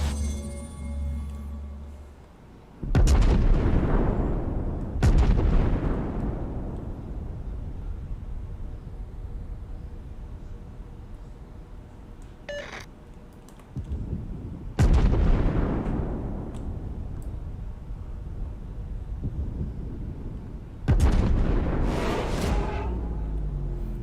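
Heavy warship guns in World of Warships fire in repeated booming salvos, four or five loud blasts spaced several seconds apart, each trailing off in a long rumbling decay, with no talk.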